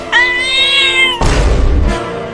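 A cartoon cat lets out one long, loud, tonal meow, followed by a burst of noisy scuffling and clatter, with no speech.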